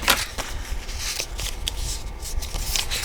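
Sheets of 12x12 paper being folded over for a junk journal, giving continuous close crinkling and rustling with brief crisp flaps and creases.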